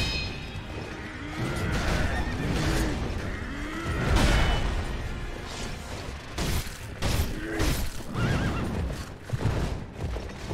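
Repeated horse whinnies and neighs ring out in Sekiro: Shadows Die Twice, mixed with clip-clopping hooves and clashing combat sounds in a busy, continuous battle scene with no speech.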